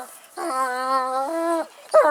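A dog whimpers while being teased, giving one long drawn-out whine with a slight pitch step near its end, followed by the start of a second whine, close and clear in a quiet outdoor setting.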